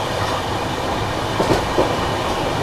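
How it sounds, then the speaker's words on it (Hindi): The Maharashtra Sampark Kranti Express, a Mumbai to Delhi train, runs at speed, a loud continuous rumble heard from inside the coach with faint rhythmic wheel clacks over the rails. "और ट्रेन अपनी अभी बढ़िया रफ्तार में भाग रही है।"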